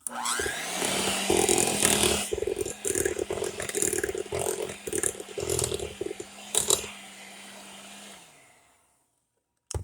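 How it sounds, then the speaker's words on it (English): An electric hand mixer whirs through banana nut bread batter with dry ingredients just added, running loud and continuous with rattling, uneven bursts for about eight seconds before cutting off into silence. "So I'm just going to give it a quick mix."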